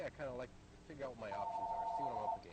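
Telephone ringing in what is likely a video game, a steady electronic ring tone running for about a second under and between a man's speech, which carries most of the clip.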